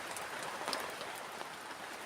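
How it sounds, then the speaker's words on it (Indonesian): Steady rain falls at night on a forest campsite with a plastic shelter, a dense, even hiss of drops patters close by, unbroken throughout. "walaupun malam ini hujan-hujan seperti ini ya"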